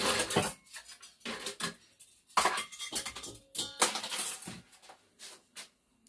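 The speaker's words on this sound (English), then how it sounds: "what we're going to do is whisk this all together" Whisk scraping and clinking against a bowl while mixing chocolate cake batter with sour cream, irregular bursts of metallic clatter with short quiet gaps, close and fairly loud, no talking.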